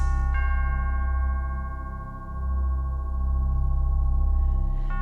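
A large swinging bell sounds with one clear strike near the start, then a long, resonant ringing hum with steady overtones that swells and fades slightly as the bell moves.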